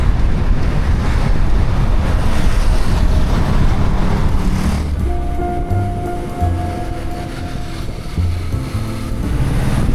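Steady, loud rushing wind and churning sea waves, with a low engine drone and a rising tonal hum emerging partway through.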